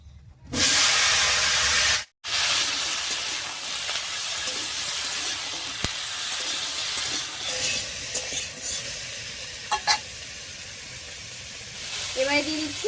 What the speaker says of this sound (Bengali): এবারে কেটে রাখা সবজিটা দিয়ে দিচ্ছি।